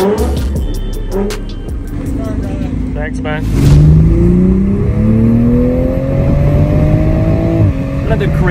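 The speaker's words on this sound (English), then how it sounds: "The exhaust factory sounds great." Toyota Supra with factory exhaust revving at a car meet, the engine note rising in a smooth climbing sweep, loud and close, with people talking over it.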